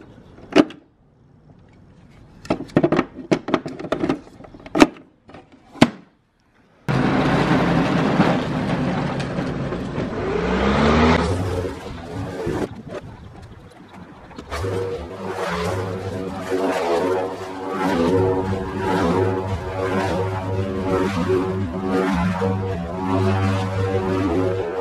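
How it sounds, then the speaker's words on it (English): After a few scattered clicks and knocks, an engine starts and runs continuously, dipping briefly then settling into a steady mechanical drone like a lawn mower working through grass, close and without talk. "I need to mow the damn grass"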